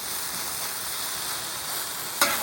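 Salmon with skin searing on a hot Blackstone griddle, a steady, moderately quiet sizzle throughout, with a brief sharp scrape near the end.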